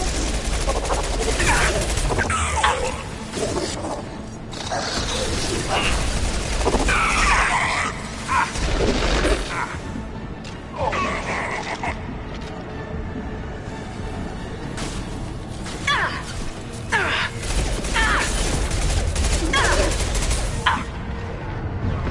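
Rifle gunfire in a Mass Effect 2 firefight: sustained bursts of automatic shots, loud and dense throughout, with impacts and explosive crashes mixed in and occasional voices under the fire.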